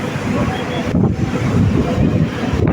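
Waves rolling in an aquapark's artificial sea wave pool, set against a mountain backdrop, make a steady broad wash of water with wind buffeting the microphone and faint voices of people in the background.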